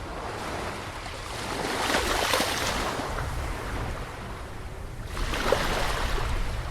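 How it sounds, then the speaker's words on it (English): Water lapping and splashing against a dock in The Lightkeeper, a steady wash of surf with wind, swelling in two louder surges, no talking. "Just listening to the water splash against the dock is just so rewarding."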